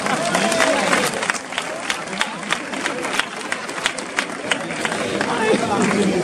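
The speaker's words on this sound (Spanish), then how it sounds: "un aplauso para ella." Outdoors at the San Benito pilgrimage festival (romería) in Cañaveral, a large crowd applauds with dense, sustained clapping mixed with murmuring voices and chatter.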